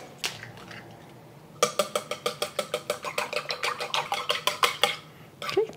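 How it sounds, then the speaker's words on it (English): Two eggs lightly beaten in a bowl, with a fast, even series of sharp clinking whisk strokes against the bowl after a few scattered taps, close and clear, with no talking. "Just gonna lightly beat them in a bowl."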